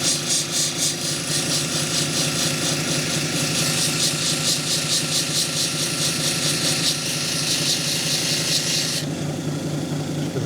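Lapidary wheel grinding a Brazilian agate sample, a continuous loud rasping whir with rapid rhythmic scraping pulses, steady and close, changing tone near the end.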